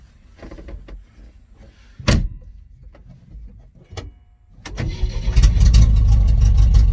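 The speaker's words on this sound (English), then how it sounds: "This car's still exceptionally loud, but way more tolerable now than it was." A car not driven in 27 years cranks and catches, then roars loudly and steadily at close range, preceded by a door thud and some clicks.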